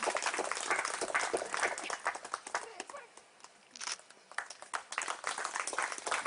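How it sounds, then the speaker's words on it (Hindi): Audience applause greets Mr. and Mrs. Doctor Badkas at a farmers' felicitation ceremony: a dense, crackling spread of many hands clapping, steady at first, dipping briefly midway, then swelling again. "तालियों के साथ"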